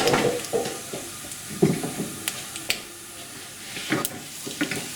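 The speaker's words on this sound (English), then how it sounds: "the paprika, the coriander powder, turmeric and garam masala, and all that will go in as well. And we're going to toast them away" Dry spices—paprika, coriander powder, turmeric and garam masala—toasting and being stirred in a pan for a vegan tikka masala, giving a steady close sizzle and hiss broken by scraping stir strokes and light clinks.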